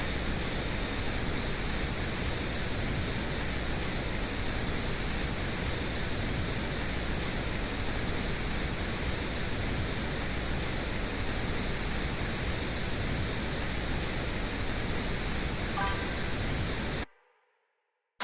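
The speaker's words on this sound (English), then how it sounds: "let's get back into it with the pink noise. So you can hear the frequencies peaking out right there" A pink noise test signal used for audio mixing plays as a steady, even, full-range hiss that stops abruptly just before the end.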